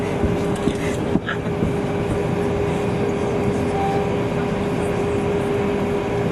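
Cabin of Concorde G-BOAC during takeoff from Exeter, a dense steady roar filling the space with a faint sustained tone and one brief knock early on.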